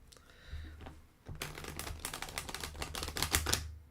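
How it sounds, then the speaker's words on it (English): Tarot cards riffle-shuffled close up, quiet rapid papery flutters at first, then a denser, louder run of snapping card riffles with no talk. "I remember learning how to shuffle like this."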